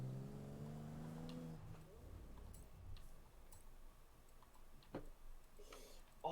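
Tuned Toyota 2000GT engine in Forza Horizon 4, a steady harmonic hum that fades after the first two seconds into low rumble with scattered clicks and faint noise.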